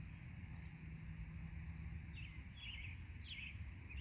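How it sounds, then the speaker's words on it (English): Birds singing outdoors, faint chirps and short twittering calls sounding some distance off over a low steady background hum. "Can you hear the birds?"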